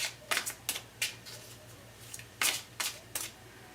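Tarot cards being shuffled by hand, a series of crisp riffling bursts in quick uneven clusters, close and fairly soft, with a low hum underneath.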